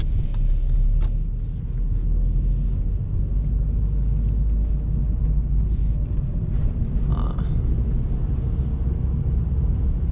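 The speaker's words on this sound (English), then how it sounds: "Coasting, I'm gonna give a little tap of the gas and clutch up." Manual car coasting in gear with a light tap of the throttle and the clutch released, giving a steady low engine and road rumble throughout, close and continuous with a brief rise partway.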